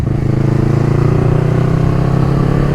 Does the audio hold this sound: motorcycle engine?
yes